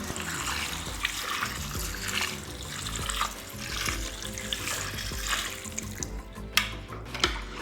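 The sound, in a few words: milk being poured into cooking carrots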